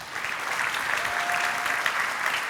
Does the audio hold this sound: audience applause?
yes